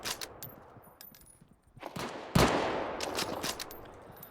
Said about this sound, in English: You can just sit back here and you start sniping.